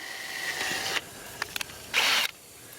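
A drill boring a small hole through a used aquaponics fitting, with two short high whirring bursts separated by a few faint clicks, close and fairly quiet.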